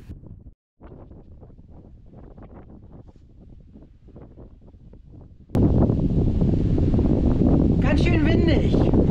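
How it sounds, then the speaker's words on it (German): Heavy wind buffets the microphone in a loud, steady roar, rising abruptly partway through; a voice talks beneath it. "Ganz schön windig."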